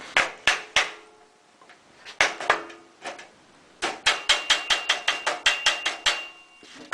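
A hammer drives a wooden batten to fold zinc flashing for a roof abergement, beside an old sheet-metal folder: a few sharp strikes, a short pause, two more, then a fast run of a dozen ringing knocks, loud and close.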